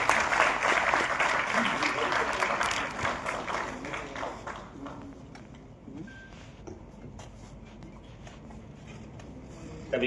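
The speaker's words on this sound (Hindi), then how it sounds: "जोरदार तालियों से स्वागत कीजिए" An audience applauding to welcome a speaker to the stage at a World Press Freedom Day event, loud dense clapping at first that gradually thins and fades toward scattered claps by the end.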